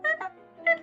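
A person imitates a squeak toy with two high, tight squeaks, nasal and pitched like a rubber toy, separated by a short pause and heard alone without other talk.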